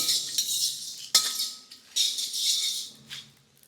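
Whole spices for garam masala, including star anise and bay leaves, being stirred together in a dish, a dry rustling rattle in several close bursts with a sharp clink partway through.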